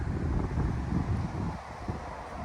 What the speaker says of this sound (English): we lost the sun and the wind's picking up